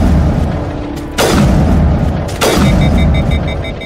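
Three heavy gunshots from a Mass Effect video game weapon, loud booming reports spaced over a few seconds, each trailing into a short echoing decay, with no voices.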